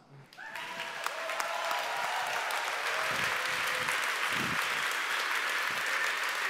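A large crowd at the re:publica conference breaks into loud, sustained applause that swells quickly and holds steady, dense clapping filling the room.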